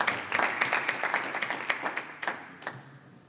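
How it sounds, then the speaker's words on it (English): A student town hall audience claps for a few seconds, a modest crowd with clear separate hand claps that taper off and fade out near the end. "I would really appreciate if you all give yourself a round of applause for being here"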